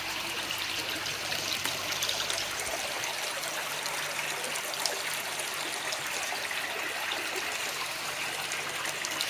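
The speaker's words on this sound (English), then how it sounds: "I'm just doing a massive water change" Water running steadily during a large water change at a fish pond, a continuous broadband trickle and splash that stays close and fairly loud throughout with no voices.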